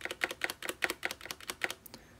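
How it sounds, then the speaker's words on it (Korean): Typing on an iKBC W210 wireless mechanical keyboard with Cherry brown switches, a quick run of about a dozen crisp, close keystrokes in an uneven rhythm, each a sharp tactile clack, with no voices. "이렇게 스테빌라이저 부분이 커세어나 로지텍 같은 게이밍 키보드에 비해서 정숙한 편인 걸 알 수 있는데요"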